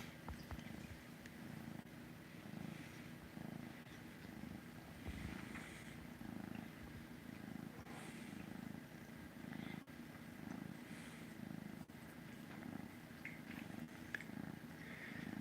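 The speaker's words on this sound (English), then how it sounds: "see if you can hear a big purr." A cat purring close by, a steady low rumbling purr that continues without a break, with faint background hiss.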